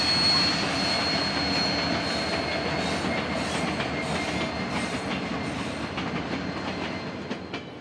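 Union Pacific 844 steam locomotive pulling a special train into Picacho, Arizona, a steady loud rumble of wheels and cars rolling past with a faint high squeal, slowly fading toward the end.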